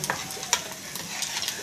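Prawns frying in a pan for a fry biryani, with a steady soft sizzle and a few brief stirring scrapes close by, no voices.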